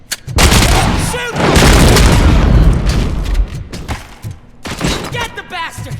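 Loud, sustained gunfire and booming blasts from the video game RoboCop: Rogue City, dense bursts over several seconds with shouted voices mixed in.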